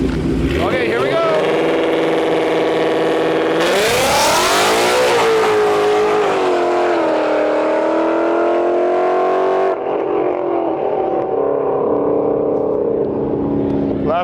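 A Mustang drag racer launches down the left lane at a dragway, engine roaring loud and rising in pitch as it accelerates away, with a voice talking over it.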